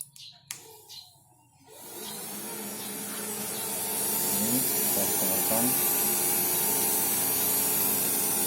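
An added cooling fan on a Yamaha Scorpio 225 motorcycle with a bobber build spins up after a few clicks and brief speech, then settles into a steady, close whirring drone that grows slightly louder.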